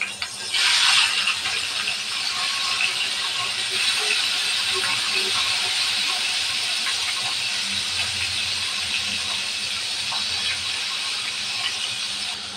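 Fish sizzles in hot oil, a steady broad hiss with crackling that flares briefly at the start as the fish goes in, then settles into even frying.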